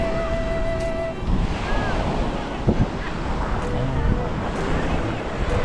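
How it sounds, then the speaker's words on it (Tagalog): Ocean waves crash and wash onto the shore in a steady loud roar mixed with wind buffeting, and a voice speaks briefly at the start. "Bagsak, malaking bagsak sa alon."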